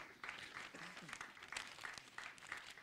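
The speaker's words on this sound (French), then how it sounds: "Qu'on applaudisse aussi les chanteurs de Chiami Rispondi." An audience at an evening verbal jousting contest applauds the singers: a faint, diffuse, continuous patter of many hands in a reverberant room, with a voice faintly audible underneath.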